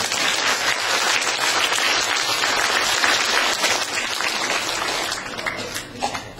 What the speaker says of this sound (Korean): 박수다 주시오.